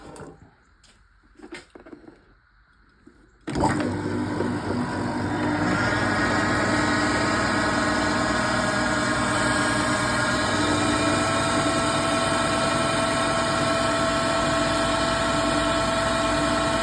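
A Triumph Stag power steering pump on a test rig, spun through pulleys at about 700 RPM, starts up after a few quiet knocks and settles into a loud, steady mechanical whine and hum that runs unbroken.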